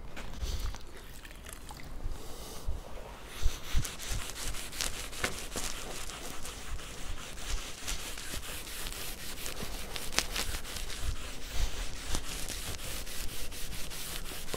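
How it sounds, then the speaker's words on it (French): A sponge wipes steadily across a freshly soldered zinc seam, giving a continuous close scrubbing and rubbing sound with faint scrapes. "je passe assez rapidement le coup d'éponge pour pas galérer à"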